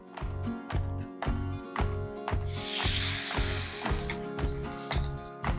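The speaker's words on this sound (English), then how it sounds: "You want to hear that nice sizzle" Continuous crackling sizzle of chicken frying in a hot pan, with rhythmic scraping or tapping knocks repeating throughout.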